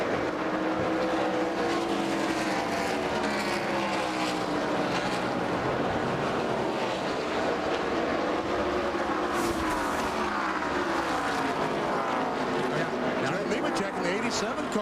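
Stock cars in the 2002 Cabela's 250 roar past after the green flag, many engines whining and sweeping by in overlapping waves under continuous race commentary.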